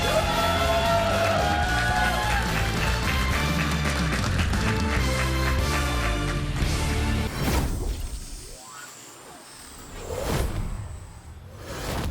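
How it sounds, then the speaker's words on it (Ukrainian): A TV singing-contest final audience breaks into applause and cheering as a song ends: the music plays loud for several seconds, then gives way to a broad, sustained wash of crowd clapping and cheers that swells and dips. "Ваші оплески ще раз і ще раз."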